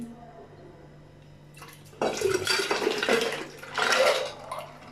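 Ice tumbles into a glass of Rooh Afza lemon sharbat with a sudden close splash and rattle, followed by sloshing and a second louder surge of liquid and clinking.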